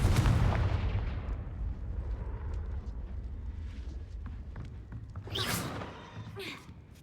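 A Confringo spell blast in the Hogwarts Legacy video game booms loudly at the start, followed by a rumbling decay, scattered clatter and a later crackling burst.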